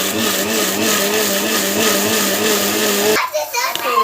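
A mixer grinder blending tomato chutney whirs loudly and steadily for a few seconds, then cuts off abruptly, leaving quieter kitchen clatter.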